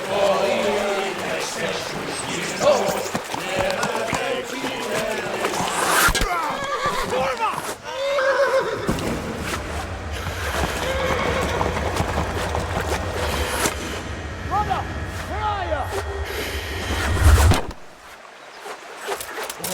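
Horse neighing and whinnying alongside clip-clopping hooves in the medieval video game Kingdom Come: Deliverance, loud and repeated over game music and ambience, with voices talking in between.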